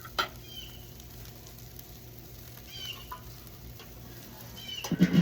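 Steaks cook on a grill with a steady, low sizzle and faint crackle throughout, a couple of soft knocks and a louder clatter near the end, with no talk.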